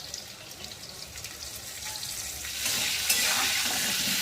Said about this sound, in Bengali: এখানে আমি এই আলুগুলো ঢেলে দিচ্ছি